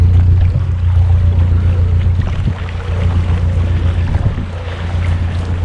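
A canal boat with an 18-inch propeller passes close by, its steady low engine throb and churning water holding loud and continuous under light wind noise.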